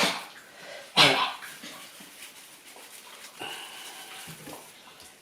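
A dog coughs and barks indoors, with one sharp loud burst near the start, then softer yips and whimpers. Faint household noise sits underneath.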